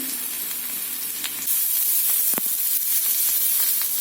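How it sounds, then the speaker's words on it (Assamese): Chopped onions sizzle and fry in oil in a pan, in preparation for fried momos. The loud, steady crackle swells partway through, with faint clinks of stirring and no talk. "আৰু ইয়াত অলপ দিম কাটি থোৱা পিঁয়াজ"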